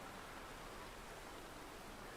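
Steady, soft rain hiss fills the scene in the Hundred Days winemaking simulator game, an even wash of noise with no distinct drops or voices.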